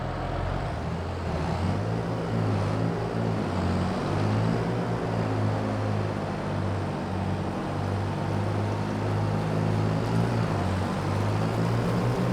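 A 1066 tractor engine in a farming video game, running as a steady, loud, low diesel drone with an even harmonic rumble that holds for the whole stretch, with no voices over it.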